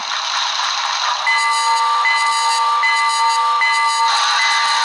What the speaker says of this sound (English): let's get that bell ringing, blow the whistle